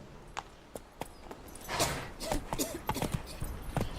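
Roach the horse walks in The Witcher 3, hooves clip-clopping in a steady rhythm close by, joined by rustling movement midway while a voice speaks over the steps.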